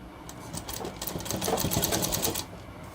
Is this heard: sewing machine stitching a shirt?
yes